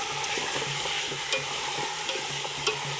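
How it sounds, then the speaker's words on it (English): Village chicken frying in a pan over a wood fire, a steady close sizzle with crackling pops and light scraping from stirring, continuous for a few seconds with no voices. "So, in with those. Give it a fry."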